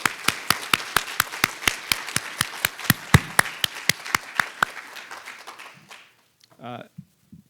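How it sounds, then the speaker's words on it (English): Audience applause at a bank merger symposium, a run of sharp, evenly spaced claps that carry clearly for about six seconds before stopping abruptly, followed by brief faint voices and shuffling in the quiet room. "I think that deserves at least one more round of applause."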